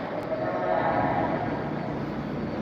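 A train rumbles through Long Island City, Queens, in New York City, a loud steady roar of rolling cars with a brief horn-like tone near the start, heard close by on a city walk.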